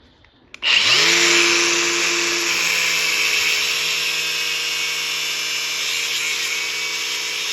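A power tool cuts 16 gauge sheet metal at an angle during window lip repair on an Oldsmobile Vista Cruiser, starting with a sharp click and then holding a loud, steady high whine with a low hum beneath it.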